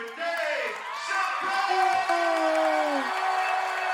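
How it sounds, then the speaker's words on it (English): A Ghanaian crowd roars for Dave Chappelle with loud, sustained cheering, whoops and drawn-out bellowing voices, steady and dense across the whole moment. "stand up and give a round of applause for Dave"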